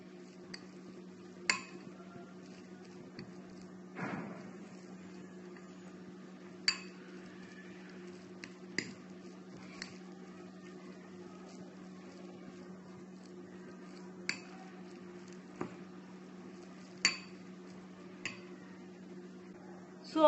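Beetroot and onion sandwich stuffing being mixed in a bowl: sparse, faint clinks and taps, roughly a dozen over twenty seconds, spread irregularly over a low, steady background hum.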